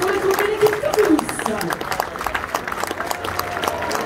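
A crowd at a French women's cycling championship applauds the new national champion, with scattered dense clapping throughout and a voice speaking over it.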